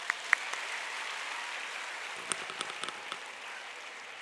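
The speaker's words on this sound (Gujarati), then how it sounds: "તો એકવાર જોરદાર તાળીઓ બધા માટે હોવી જોઈએ" Audience applause at a counselling programme for students, a soft and fairly distant patter of clapping with a few sharper claps standing out.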